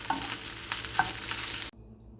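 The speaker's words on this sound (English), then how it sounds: "I'm breaking it up so that it's more like the finer pieces of ground beef" Crumbled plant-based Beyond Beef is broken up with a utensil as it fries in a pan for enchilada filling, a steady close sizzle with scraping stirs for about a second and a half, then it drops sharply to quiet.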